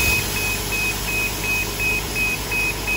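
Steady, evenly spaced high beeps repeat about every third of a second over a constant bus engine rumble, with no talking.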